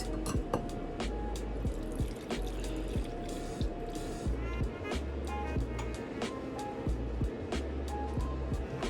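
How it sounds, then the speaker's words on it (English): A coffee-based hair treatment mixed with melted African black soap is strained into a container. Close trickling and dripping liquid with a few light clinks continues steadily throughout. "So we're going to strain it with the African black soap melted."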